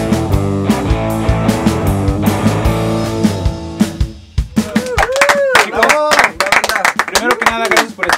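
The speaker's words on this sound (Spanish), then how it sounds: "fuerte aplauso." Applause for the band Fulcro in a studio session, a burst of close, sharp hand claps and cheers that follows sustained music, with a voice talking over it.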